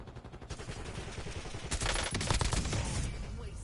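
Rapid gunfire in Call of Duty Warzone, a dense burst of automatic shots that swells midway and carries on over a constant loud game soundscape.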